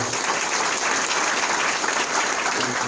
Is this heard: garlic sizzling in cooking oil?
no